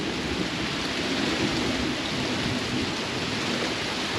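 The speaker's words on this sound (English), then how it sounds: "look at the rain coming down" Steady, heavy rain hisses and patters across surfaces during a morning thunderstorm, forming a dense, even wash of noise with a low rumble beneath it and no voices.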